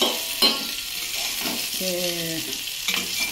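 Cauliflower frying and being stirred in a pan for a curry made without garlic or onion, giving a steady broadband sizzle with a few soft scrapes and no speech.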